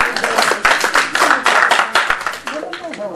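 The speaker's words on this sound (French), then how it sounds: "Merci sur l'applaudissement" An audience at a festive political meeting of a party women's union in Paris claps in quick, dense bursts, close and loud, and voices talk over the applause.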